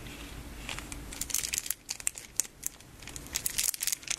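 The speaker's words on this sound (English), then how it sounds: "Crinkling sound of these packages." Japanese candy packages crinkling and rustling up close as they are handled, a steady plastic crackle with sharper crisp snaps scattered throughout.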